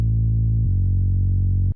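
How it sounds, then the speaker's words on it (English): A sustained, buzzing low Reese bass synth tone from an Afro house break, thick and slightly detuned, holding steady with a brief pitch shift partway through before cutting off. "And we also have this Reese bass here."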